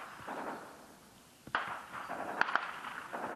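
Gunfire on the outskirts of a front-line village near Donetsk, a few sharp cracking shots scattered over a rumbling, noisy outdoor background at moderate distance.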